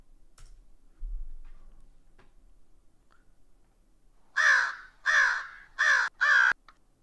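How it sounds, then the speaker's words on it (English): A bird caw effect added to a game clip sounds as four loud, harsh crow-like caws in quick succession after a few seconds of near silence and faint clicks. "bird caw."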